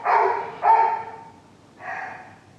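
A seven-year-old Shih Tzu at an adoption shelter gives three sharp, close barks, two in quick succession and then a third after a short pause, with no talking.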